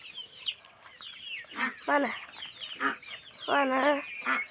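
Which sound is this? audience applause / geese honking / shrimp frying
geese honking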